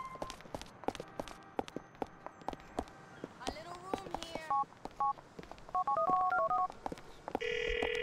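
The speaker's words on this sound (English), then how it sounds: "You've got to call him and keep a lookout for someone answering a phone." A phone being dialed in Grand Theft Auto IV, with a run of DTMF keypad tones followed by a steady ringing tone, over rhythmic footsteps and background game noise.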